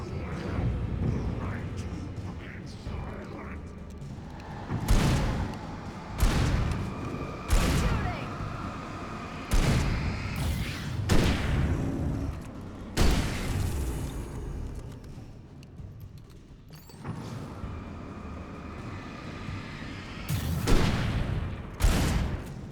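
Gunfire in the horror action game Alan Wake, with a string of loud, sharp shots and booms spaced irregularly over a rumbling game background, with voices talking in between.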